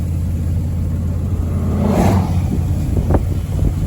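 A 2000 Chevy 2500 pickup with a 454 engine and automatic transmission runs close by, a steady low rumbling idle with a brief rise in revs midway.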